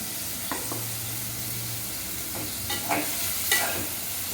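A pan sizzles steadily while sautéing for spicy South Indian mutton varuval, with a few soft scrapes of a spoon stirring, heard alone and at a moderate level.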